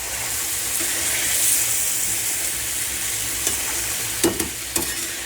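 Garlic fries with chicken in a karahi, a steady loud sizzle close to the ear, broken near the end by a few light scraping stirs of a spoon against the pan, with no talking.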